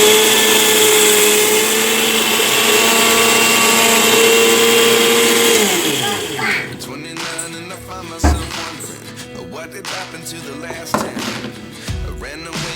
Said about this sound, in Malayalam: ഇതാ ഇപ്പോൾ മിക്സിയിലേക്ക് ഇവനെ ഒന്ന് കറക്കി എടുക്കാനായിട്ട് പോവുകയാണ്